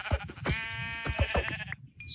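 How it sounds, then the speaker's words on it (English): A few Minecraft sheep bleat close by, wavering nasal cries overlapping one another, with a short electronic chime at the end. "But we do have some sheep."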